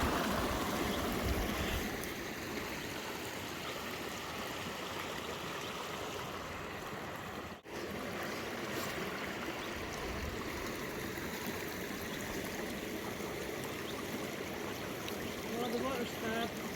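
A mountain stream in Glen Feshie, Scotland, rushes and splashes steadily and close by, a continuous broadband wash of flowing water throughout, with a brief dip midway.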